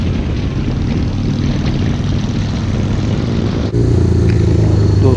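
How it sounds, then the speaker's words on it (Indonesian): A big motorcycle ridden in light rain runs rough, its engine a loud, continuous close drone that jumps abruptly to a heavier, fuller roar near the end, with no talking. "Tuh, nggak enak banget motor gua."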